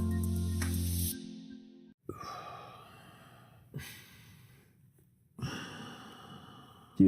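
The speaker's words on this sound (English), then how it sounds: "it's impossible to not hear you just breathing super loudly" Loud, heavy breaths by a chess player close to the mic: a long exhale, then several sharp inhales and sighs spaced a second or two apart.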